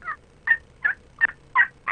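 A wild turkey gobbles, six evenly spaced loud rattling bursts about every third of a second, clear and alone.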